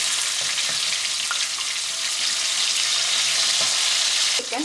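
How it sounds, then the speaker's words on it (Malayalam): Chicken pieces fry in hot oil for a Kerala chicken fry, a loud, dense, continuous sizzle close by with occasional stirring clinks, with no talking. "നമുക്കൊന്ന് വറുത്തിടാം."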